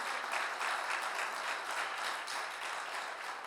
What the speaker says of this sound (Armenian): Տվեք Աստծուն բարձր ծափահարություն։